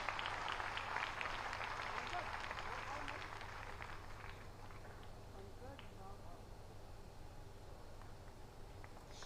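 An audience at an award ceremony in Gorakhpur applauds, a moderate wash of clapping that is strongest at first and then tapers off, with voices and background hall noise underneath.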